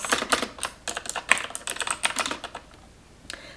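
Computer keyboard typing at a library checkout desk, with quick irregular bursts of soft clicking keystrokes close up, trailing off into a few sparse taps near the end.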